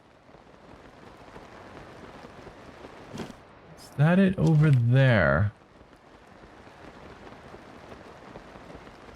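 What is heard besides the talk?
rain in the video game Zelda: Tears of the Kingdom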